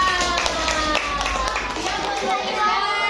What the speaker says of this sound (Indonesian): Kita kasih tepuk tangan untuk kelompok 1 dan 4.